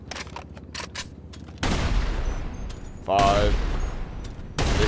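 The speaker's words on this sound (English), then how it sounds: "Okay, so 7 explosive sniper shots." Explosive sniper rifle shots in GTA Online, two heavy blasts with long noisy tails, separated by a gap, with a man counting aloud between them.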